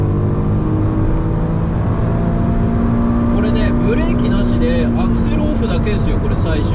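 A Honda S660 Modulo X Version Z coasts off the throttle on a circuit, its engine a steady close harmonic drone that slowly falls in pitch, with someone talking over it in the second half.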